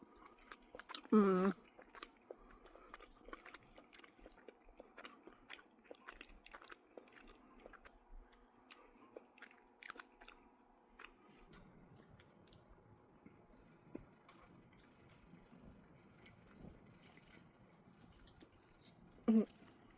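Someone chews a bite of homemade meatloaf in soft, faint, wet smacks spread over a long, mostly quiet stretch, with a few sharper clicks and small noises around it.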